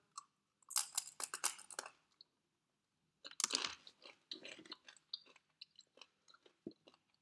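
Crunchy raw vegetable chips made with radish being bitten and chewed close up, two bursts of loud, crisp crunching separated by a pause, then quieter intermittent chews trailing off.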